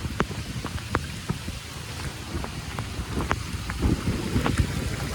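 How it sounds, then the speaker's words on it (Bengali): Heavy rain falls on a street in Gulshan, Dhaka, as a steady, faint hiss with scattered drops striking close by and no voices. "মুসলধারে বৃষ্টি হচ্ছে"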